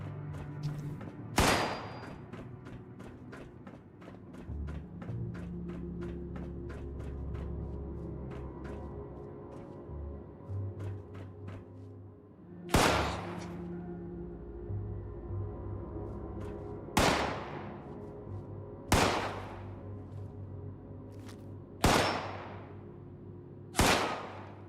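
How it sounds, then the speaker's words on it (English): Gunfire in the PC video game Fallout 76: a series of sharp, loud shots spaced a few seconds apart, with a faster run of lighter rapid shots early on over a steady rumbling game ambience. "somebody's shooting at me"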